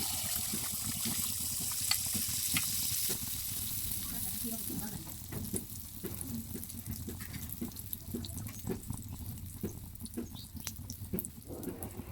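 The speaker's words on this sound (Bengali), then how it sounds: "এবার চামচের সাহায্যে কড়াইয়ের গরম তেলে পিঠাগুলো আমি একটা একটা করে ভেজে নিব।" Rice-flour pitha batter fries in hot oil in a wok, a steady sizzle with scattered crackles and pops, close and moderately loud, with no talk over it.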